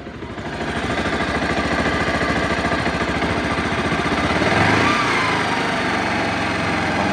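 A motorcycle engine idles after a DIY clutch lining replacement, a loud, steady close-up chug with a fast, even pulse and a slight rise in revs partway through, with no talk over it.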